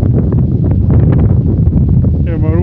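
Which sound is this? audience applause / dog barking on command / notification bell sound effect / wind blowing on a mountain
wind blowing on a mountain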